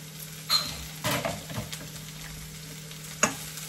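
Homemade mutton curry spice powder of dried red chillies and coriander is stirred in a pan on a low flame, with soft scraping strokes and faint sizzling in short bursts, a sharp clink near the end.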